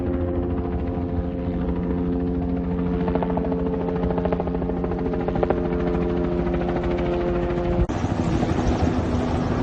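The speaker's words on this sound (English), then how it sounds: "Here we got a chopper" A helicopter drones steadily overhead near the Genesee Valley Canal, its rotor thudding in a continuous rapid chop, fairly close and constant throughout.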